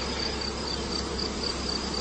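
Honeybees hum in a steady, even drone over an opened two-box hive, a continuous close buzz with a faint high whine, calm and without voices.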